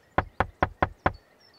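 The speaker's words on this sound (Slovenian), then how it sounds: "Tinky Binky trka na vrata še." Five crisp knocks on a door in a steady, even rhythm, close and clear in a quiet room, as in a children's television show with no talk over them.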